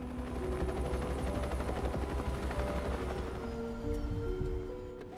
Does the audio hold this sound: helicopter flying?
yes